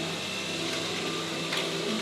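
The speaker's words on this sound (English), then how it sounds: "Now, essentially, I'm just gonna blend it up." A blender whirs steadily, mixing JADAM wetting agent with oil in a continuous, fairly quiet drone with no talk over it.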